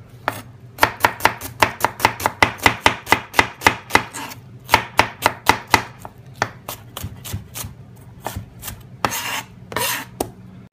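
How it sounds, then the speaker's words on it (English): Two onions are diced with a knife on a board: brisk, evenly spaced chops in quick runs, close and crisp, with short pauses and a looser scraping flurry near the end. "the next thing we're going to do is dice up 2 onions"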